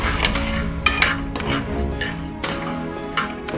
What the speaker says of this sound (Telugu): పెనంలో వేసుకొని ఇలా